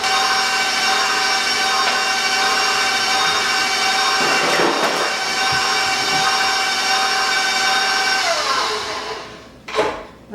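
An electric hand mixer creams eggs with a cup of sugar for peach squares, a loud, steady whining motor hum lasting several seconds before winding down, with a brief clatter near the end.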